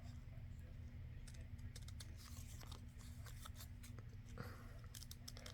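Scissors snip at paper trimmed during an altered paper clip pocket craft, a few quick cuts heard faintly over a steady low electrical hum.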